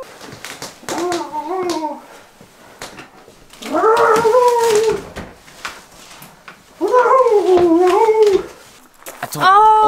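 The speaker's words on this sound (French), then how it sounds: "Il est en train de miauler, il est là." A loud, drawn-out animal cry with wavering pitch comes three times with pauses, followed by a short high call at the end. It resembles a cat meowing or howling.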